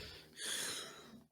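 A single sharp, breathy sneeze bursts out close by, preceded by a quick intake of breath and followed by a faint exhale.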